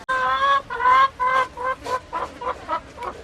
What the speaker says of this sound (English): this chicken, I don't know what she's wanting, but she's all up in my business